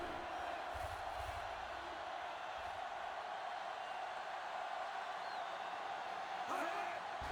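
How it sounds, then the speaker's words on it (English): A home crowd at a football game roars steadily, broad and continuous, during a third-down defensive stand, with a brief louder swell near the end. "As this Janitors home crowd tries to rile up their defense for this third down"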